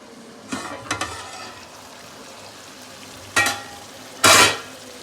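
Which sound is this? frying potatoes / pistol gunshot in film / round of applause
frying potatoes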